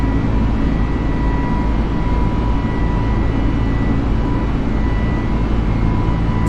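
Takeoff engine roar of an FBW A32NX airliner in Microsoft Flight Simulator, a loud, steady broadband jet roar with faint tonal whine, unbroken throughout.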